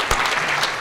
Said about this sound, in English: now we can clap, okay?